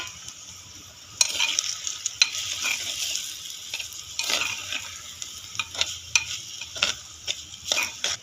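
Mushrooms frying in a pan with ginger paste, a close, lively sizzle broken by repeated scrapes and clinks of a spoon stirring against the pan, with no talk.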